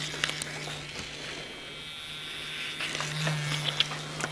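Heated razor shearing through long hair during a haircut, a steady low electric hum under faint scraping strokes, close and quiet without talk.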